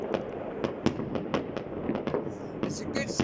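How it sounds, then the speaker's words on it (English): New Year fireworks watched from a balcony crackle and pop in a dense, irregular string of sharp bursts, with a couple of higher whistling fizzes near the end. "Just stood out watching fireworks."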